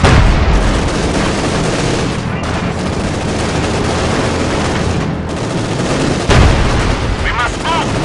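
Company of Heroes 2 battle with an anti-tank gun facing a Panzer IV: dense, continuous gunfire and booming artillery, loud and close throughout, with a sharp heavy blast near the end.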